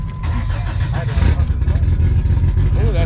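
A repaired race car engine cranks, fires and revs up close by, its deep rumble rising and swelling with throttle blips, while people talk over it.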